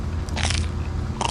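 Fried morel mushrooms, cooked in butter with garlic and onion, are bitten with two crisp, close crunches separated by a brief pause.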